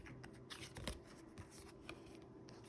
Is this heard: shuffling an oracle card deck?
yes